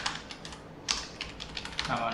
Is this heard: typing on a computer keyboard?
yes